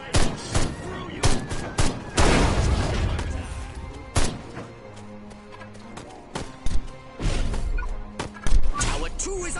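Video game gunfire, repeated sharp shots and bursts with crashing impacts, mixed with game voices and other clatter.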